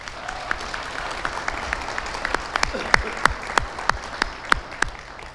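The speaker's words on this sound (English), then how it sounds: "Please give a round of applause for Councilman William H." Crowd applause at a town inauguration ceremony as a councilman is introduced, a room full of clapping with several sharp, close hand claps punctuating the steady patter, building slightly before fading.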